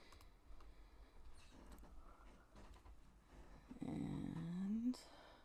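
Computer mouse clicks while working in Blender: a few sparse, soft, close clicks over a quiet room tone, ending with a brief rising tonal sweep.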